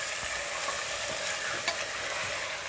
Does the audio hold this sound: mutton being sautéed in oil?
yes